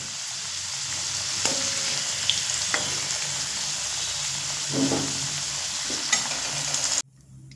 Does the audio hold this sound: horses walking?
no